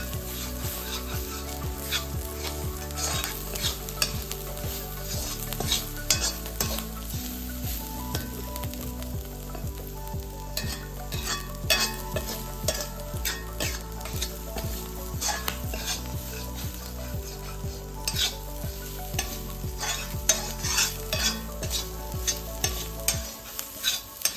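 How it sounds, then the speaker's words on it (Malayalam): Cluster bean thoran is stir-fried in a pan with a steady sizzle as a spatula scrapes and stirs repeatedly, close up and with no voices. "കൂട്ട് നല്ലപോലെ മൂത്ത് വരണം. അതിനനുസരിച്ച് നമ്മൾ ഇളക്കി കൊടുക്കണം."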